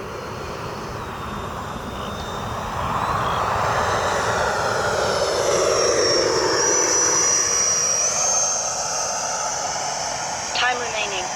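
An FMS F-86 Skyblazers RC jet with an 80mm electric ducted fan roars steadily overhead, its whine swelling as it passes close and loud, then easing slightly.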